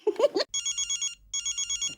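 A telephone rings in two long bursts of repeated electronic trills, loud and close, with a short gap between them; a voice speaks just before the ringing starts.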